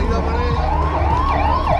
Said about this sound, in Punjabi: ਲੋ ਜੀ ਹੁਣ ਐਂਬੂਲੈਂਸ ਆਈ ਆ